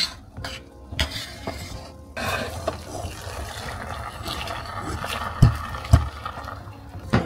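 Biko, sticky rice cooked in coconut, gets stirred in a pot with a continuous thick scraping and faint bubbling, ending in a couple of heavier knocks of the spoon near the close.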